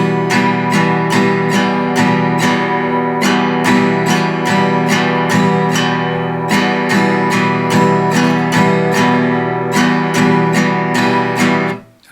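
Acoustic guitar strummed alone in a steady, funky pattern that drops one downstroke per bar, bright repeated chord strikes with a driving rhythm, close and loud, ending abruptly.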